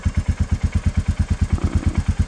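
A Royal Enfield Meteor 350 single-cylinder motorcycle engine thumps at a steady, even rhythm, close and loud, each pulse distinct like a low chugging beat.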